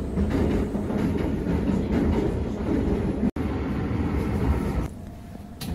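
Interior rumble of a commuter train riding from Shin-Sapporo into Sapporo Station, a steady close roar with rail clatter and a brief dropout before the noise eases as the train slows.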